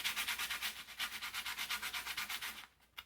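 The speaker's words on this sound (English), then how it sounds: "I'm going to rub it first on a little bit of sandpaper" A glued puzzle piece is rubbed on sandpaper in quick, steady back-and-forth strokes, a soft rhythmic scratching of about twenty passes that stops abruptly near the end.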